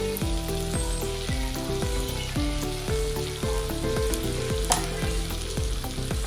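A steady loud sizzle of hot oil in a wok, with regular scraping strokes of a spatula stirring throughout.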